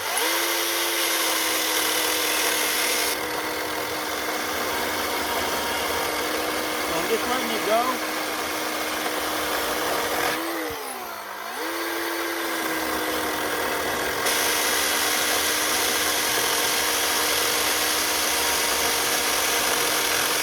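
A Ridgid chainsaw runs at a steady, high-pitched whine, then dips and bogs briefly as it bites into wood near the middle before recovering, while someone talks over it at times.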